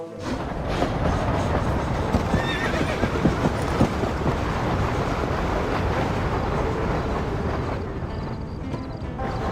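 A horse neighs and whinnies over steady hoofbeats in the Red Dead Redemption video game, loud and close against a constant wind-like outdoor bed with no talking.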